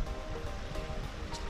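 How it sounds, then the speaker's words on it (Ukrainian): A river flowing beside a bridge in a city park in Lutsk, a faint, steady rushing wash of water with no voices over it. "Ось справа від нас протікає річка"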